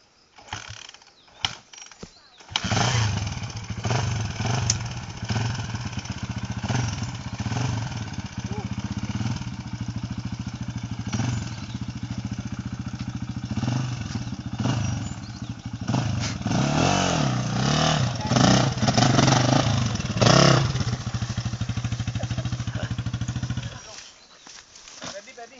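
A 400cc Suzuki motorcycle that will not start is cranked with a few sputters, then catches and runs with a steady loud idle and mechanical clatter, revving in waves before cutting off, with people talking nearby.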